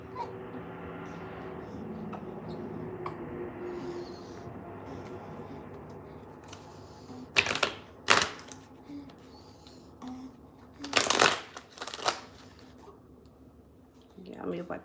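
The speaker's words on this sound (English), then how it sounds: "I'm going to shuffle these cards." Tarot cards are shuffled in a few short, crisp riffling bursts over a quiet room hum, close and moderately loud, with pauses between them.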